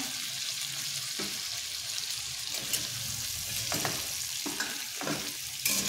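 Potato slices dressed with lemon juice are stir-fried in a pan. A loud, continuous sizzle runs throughout, broken by a few brief stirring scrapes up close.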